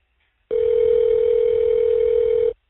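Steady telephone tone on an Evercom jail phone call while the number is dialed, a single loud sustained tone lasting about two seconds after a short silence.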